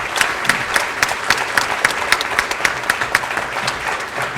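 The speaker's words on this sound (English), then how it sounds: "So how about a round of applause for all the chamber staff?" Audience applause for chamber staff at a Citrus County candidate forum, a steady patter of many hands with a few sharper claps standing out, moderately loud and with no voices over it.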